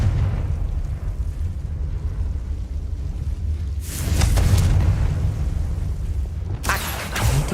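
Confringo blasting spell explosions in Hogwarts Legacy, two bursts of fiery blast sound rising over a steady low rumble of game ambience, the first lasting about a second and the second arriving a few seconds later.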